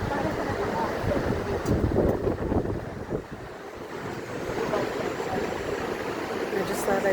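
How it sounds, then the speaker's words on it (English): Steady wind buffets the microphone high up near Niagara Falls with a continuous low roar, fluctuating slightly in strength, with water sounds faintly beneath it. "It's nice and windy up here,"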